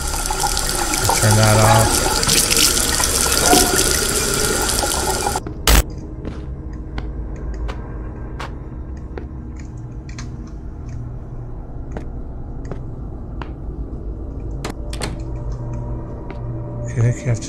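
In the game Beside Myself, a loud hissing rush of running water fills the first five seconds, then cuts off, leaving quiet ambience with faint ticks; a voice speaks briefly.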